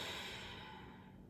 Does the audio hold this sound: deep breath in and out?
yes